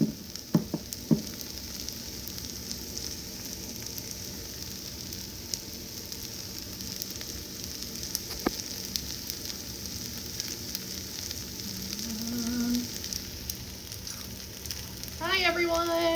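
Rava dosa batter frying in oil on a Lodge cast iron griddle, giving a steady close sizzle throughout with a few scattered clicks and crackles.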